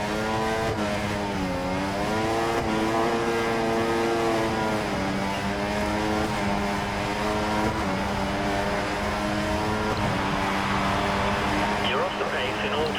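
A Formula 1 car engine screams through a qualifying push lap in the F1 2014 video game, a continuous close whine that rises and falls with gear changes, with a voice talking over it.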